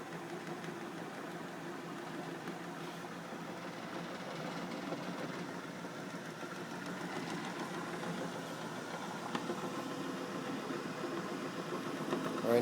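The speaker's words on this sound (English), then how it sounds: "And here's the disc slowly starting to come up to speed." A Bendini rod motor disc in a dual flux generator build spins up to speed, giving a steady mid-pitched whirring hum that holds evenly throughout and rises slightly in loudness near the end.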